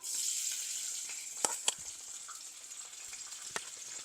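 Onion, curry leaves and green chillies sauté in a pan with a steady, bright sizzle throughout, broken by a few sharp clinks of a spoon against the pan.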